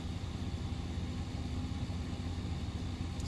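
A vehicle engine idles steadily with a constant low rumble throughout, while an OBD diagnostic scan tool reads live data; no one speaks.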